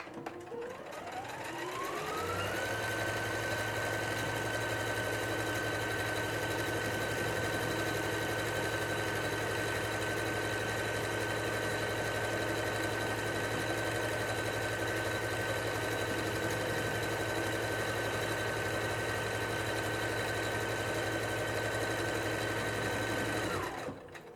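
A Singer SE 9185 sewing and embroidery machine stitches a buttonhole, running as a loud, steady, continuous whir with a constant mechanical hum from start to finish, alone with no talking.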